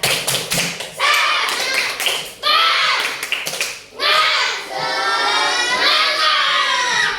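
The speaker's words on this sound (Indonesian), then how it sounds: "Kita tepuk semangat dulu semuanya." A class of third-grade children claps out a rhythmic chant together, loud bursts of tapping hands mixed with shouted voices in a classroom, repeated a few times.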